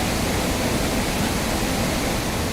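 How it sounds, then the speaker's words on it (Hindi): Floodwater from heavy rain surges through an overflowing storm drain in Dewas, a loud, dense, unbroken roar of rushing water filling the whole clip. "भारी बारिश से देवास में एक बरसाती नाला उफन रहा है"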